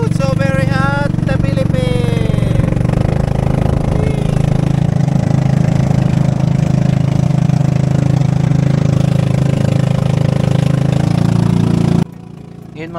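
A motorboat engine drones loudly and steadily during a boat ride to a beach, a continuous mid-pitched hum that cuts off abruptly near the end, with voices briefly audible at the start.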